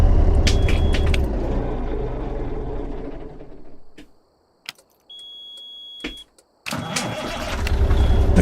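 A car engine cranks and starts inside the vehicle, loud and rumbling for several seconds, then cuts out into near silence with brief clicks and a faint whine, before the engine noise returns loud and steady.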